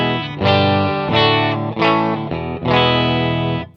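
An electric guitar played through an amp emulation pedal set to vintage mode rings out in a few sustained, slightly distorted chords, each held and let decay, close and alone.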